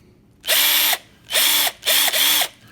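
A cheap brushed toy drill from Harbor Freight, visibly arcing, whirs up in three short bursts, each spinning up, holding a steady high whine and winding down, alone and close.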